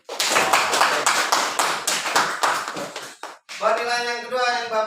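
A classroom of students claps together on cue, a dense burst of hand claps lasting about three seconds that breaks off, followed by a teacher's voice talking.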